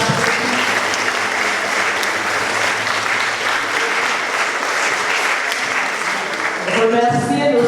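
A congregation in Saint Joseph church applauds at a baptism and first communion service, sustained dense clapping for several seconds, with a voice rising near the end.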